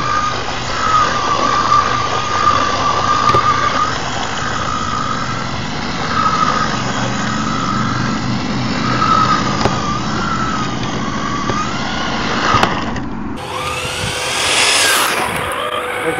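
Traxxas 4-TEC 2.0 Ford GT RC car driving on a stock setup, a steady high electric motor whine with rising and falling pitch, close by, ending in a brief burst of louder noise.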